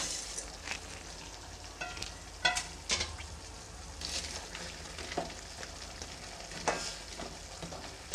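Vegetable masala Maggi noodles cooking in a pan, a quiet bubbling sizzle with scattered soft clicks from a spoon, steady and fairly faint, with no one speaking.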